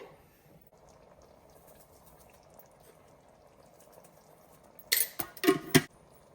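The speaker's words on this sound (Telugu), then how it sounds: "ఇదిగోండి అది ఉడుకుతూ ఉంటుంది" Capsicum masala curry simmering in a covered pot, a faint low bubbling hiss, followed near the end by a few sharp clattering bursts of lid or utensil against the pot.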